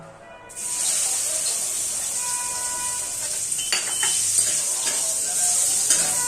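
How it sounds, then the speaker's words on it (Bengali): Soya chunks fry in hot oil with turmeric, starting with a sudden bright sizzle that settles into a steady loud hiss, with occasional crackles and stirring scrapes and no voices. "আগে আমি সয়াবিনটা ভেজে নিচ্ছি"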